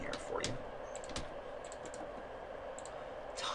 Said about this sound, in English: what I'm going to do is I'm going to do some typing here for you